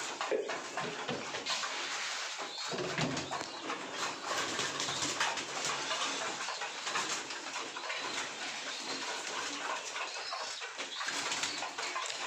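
Pigeons coo repeatedly at Khulna's Boro Bazar market over a constant hiss of background noise, with no one speaking.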